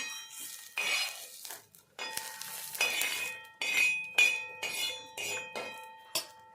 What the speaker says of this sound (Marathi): इथे आपण आता थोडंसं खोबरं ते खोबरं भाजून घेऊ